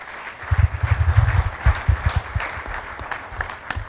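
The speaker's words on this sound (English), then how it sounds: "So please give them another round of applause." An audience at an investment managers forum applauds with a steady burst of clapping that rises quickly and holds throughout, fairly close and full, with no talk over it.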